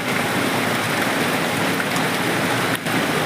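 Heavy rain pours in a dense, loud, unbroken roar for the whole stretch, with one brief dip near the end.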